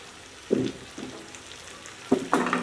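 Beef kala bhuna fries in a pan under a low sizzle while a spoon stirs it in four scraping strokes, two spaced early and two close together at the end.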